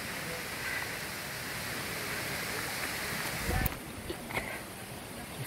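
The Andlau waterfall gives a soft, steady rush of flowing water, heard at a distance and fairly faint, with brief footstep-like knocks toward the end.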